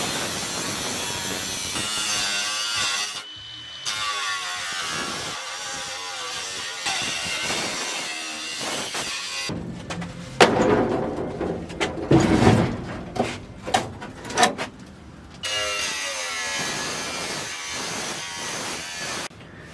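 The floor pan of a 1959 Impala being cut out with a power tool, loud rasping bursts of cutting separated by short pauses, growing harsher and more uneven midway before settling into steady cutting again.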